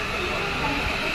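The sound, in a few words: train starting to move from CST station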